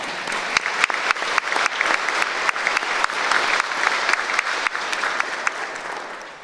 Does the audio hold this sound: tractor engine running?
no